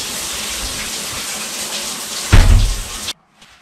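A shower runs at home in a continuous, close hiss of falling water that surges louder near the end before cutting off abruptly.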